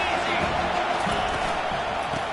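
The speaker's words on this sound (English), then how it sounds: "this crowd is turning it up a notch" Stadium crowd roar in an NCAA Football 25 college football video game, a steady dense wash of noise holding at a constant level through the moment, with speech-like murmur mixed in.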